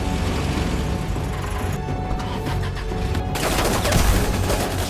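Gunfire in a film scene, a dense loud burst of shots layered over a thick action soundtrack, intensifying toward the end.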